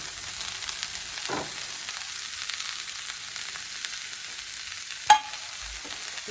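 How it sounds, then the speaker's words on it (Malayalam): Water pepper leaves are stir-fried in a pan for a thoran, sounding as a soft, continuous sizzle with faint stirring scrapes and one sharp clack of the utensil near the end. "നമ്മുടെ വെള്ളത്തണ്ട് ഇട്ട് കൊടുക്കുകയാണ് നമ്മളെ ലീഫ് ഇട്ട് കൊടുക്കണം ഇതിട്ടിട്ട് നന്നായിട്ട് ഇളക്കി വേവിച്ചെടുക്കണം"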